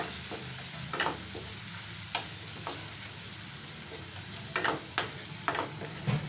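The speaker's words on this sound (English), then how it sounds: "this chopped garlic and ginger. Okay, and we'll fry that very well" Chopped garlic and ginger frying in hot oil in a pan, a steady low sizzle running throughout, broken by scattered clinks and scrapes of a utensil stirring.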